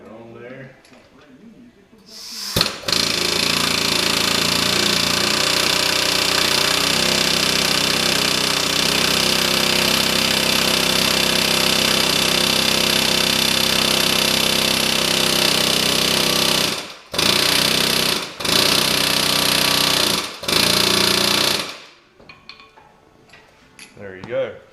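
An impact tool runs on a bolt during a camshaft install on a Camaro LS3 engine, a loud, sustained rattling hammer for about fourteen seconds, then three short bursts with gaps between them.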